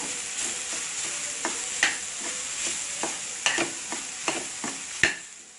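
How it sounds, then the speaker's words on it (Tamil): Roasted ground masala being sautéed in a pan for Tamil-style roasted egg curry, a steady soft sizzle with scattered sharp scrapes and clicks of a stirring spoon against the pan, no talking. "அதையும் இப்போ இதை கூட சேர்த்து நல்லா ப்ரௌன் கலர் வர்றது வரைக்கும் நம்ம நல்லா வதக்கணும்"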